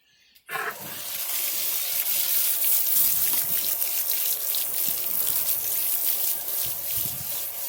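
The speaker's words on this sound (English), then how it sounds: "I water these into the cardboard." Water from a can or hose pours steadily onto damp cardboard bedding in a home worm farm, a continuous close hissing splatter that starts abruptly and runs on without speech.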